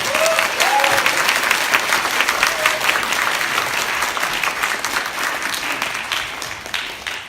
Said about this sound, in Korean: 친절한 게이 김찬영 여사님을 박수로 모시겠습니다